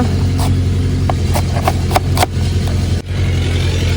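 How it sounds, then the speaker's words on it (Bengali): JCB excavator working soil nearby, a steady low mechanical rumble with a continuous engine drone and occasional sharp scraping knocks and clanks throughout. "আর পাশে আজকে একটু কাজ চলছে জেসিবির একটু কাজ চলছে মাটি খুলছে"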